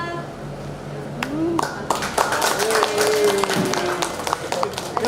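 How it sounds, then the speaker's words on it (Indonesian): Guests at a Batak wedding blessing clap after the couple's kiss: a steady patter of many hands builds and continues, mixed with voices and crowd murmur. "Setelah dicium, Amang Inang tepuk tangan semua ya?"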